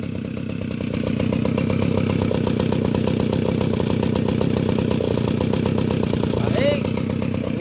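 A Shibaura lawn mower engine in near-new condition runs steadily up close, a loud, even, rapid mechanical chug that holds throughout with a faint whistling note near the end.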